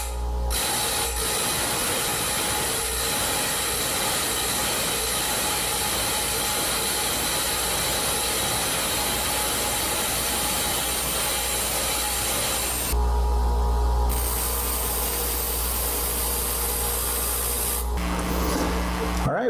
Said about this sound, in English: If your tungsten is too far down on the wheel, you'll just be grinding a flat spot or a very short taper.